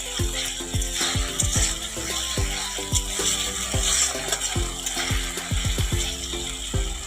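Masala for a katla fish curry is sautéed in a pan, with a spatula scraping and knocking against the metal in quick, irregular clacks over a low background sizzle.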